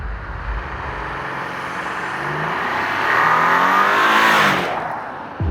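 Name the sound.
Audi A8 D5 luxury limo accelerating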